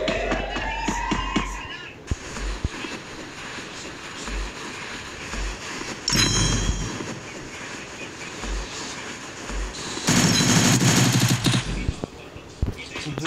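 Automatic gunfire in the battle-royale game Free Fire, with sharp bursts of rapid shots over a steady game background, heaviest near the middle and end, while someone talks throughout.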